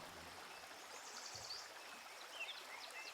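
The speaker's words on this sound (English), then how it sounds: "Listen for the babbling sound of the water as it tumbles across little stones and rocks." Faint, steady babbling of a small river trickling over little stones and rocks, soft and continuous, with a bird chirping lightly in the distance.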